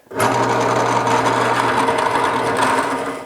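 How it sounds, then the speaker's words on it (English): A woodworking router fitted with a 1-inch bit bores center holes in mortises, giving a loud, steady, high-pitched motor whine with a constant hum that starts abruptly and runs unbroken throughout. "we're just going to tap these center holes in the mortises"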